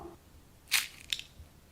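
A crispy fried snack of semolina and boiled potato snapped in two by hand, giving one sharp crunch and then a second, smaller crack, close and alone in a quiet room.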